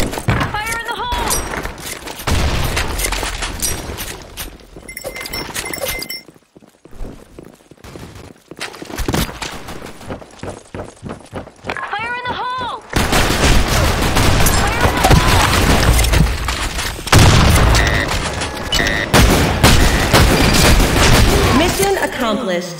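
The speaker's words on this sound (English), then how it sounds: "Fire in the hole. Grenade." Grenade explosions and bursts of gunfire in the Blackshot online shooter game, loud and continuous with rapid automatic fire, sharp shots and booming blasts layered over one another, while voices call out over the action.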